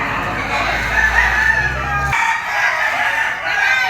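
A bullstag rooster crows close by, one long drawn-out call over a low droning hum that cuts off partway, with faint background noise around it.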